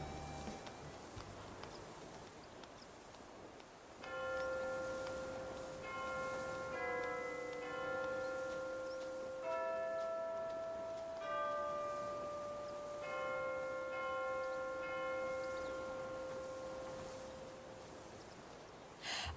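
Chiming bells in the Animal Crossing: New Horizons video game ring out a slow melodic tune of clear, sustained tones, note after note over about fifteen seconds, moderately soft with no talk.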